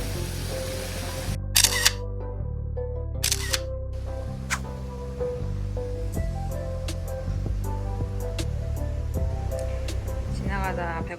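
A camera shutter clicks in two quick bursts as tourists photograph beside a Bali hotel pool, over steady background music and chatter.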